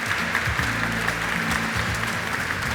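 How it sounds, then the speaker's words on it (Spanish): Applause from the audience at a science conference session, sustained clapping throughout over a low droning hum in the hall. "Vamos a pedirles un aplauso de nuevo"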